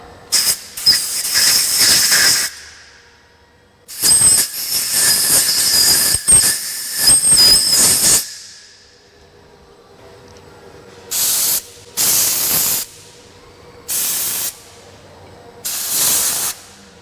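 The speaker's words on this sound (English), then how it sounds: "Blow them out with a little bit of compressed air, and then we'll be all set." Compressed air hisses in broad bursts while blowing out brake parts during routine brake maintenance on a Ford Edge, first two long blasts, then four short spurts spaced a second or two apart, loud and close with no talking.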